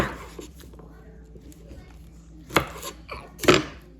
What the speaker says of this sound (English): I'm gonna cut these garlic pieces up